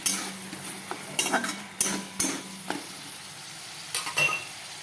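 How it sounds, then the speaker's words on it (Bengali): Onions and potatoes sizzle softly in a pan while a spoon stirs and scrapes against the metal in irregular clinks and knocks, fairly close and quiet. "অনেকটা কষবে, কারণ পেঁয়াজের একটা কাঁচা গন্ধটা যখন যতক্ষণ না হবে ততক্ষণ এটা কষতে থাকে"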